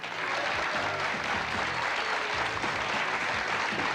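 Studio audience applause on a 1990s Greek television comedy show, dense and continuous clapping at steady loudness throughout, close and filling the room.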